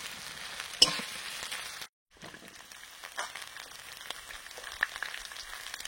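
Crushed ginger sizzling and frying in a hot pan while being stirred, a crackly spattering hiss with a few scraping stirs and one brief pause, fairly close and with no talking.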